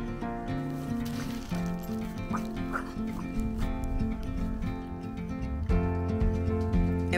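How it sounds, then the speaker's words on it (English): Dogs running after birds along a canal, with barks and yips sounding over steady loud background noise and no clear talking. "The dogs enjoyed running after birds."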